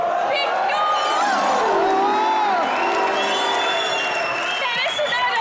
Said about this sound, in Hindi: एक बार रजत जी के लिए जोरदार तालियां।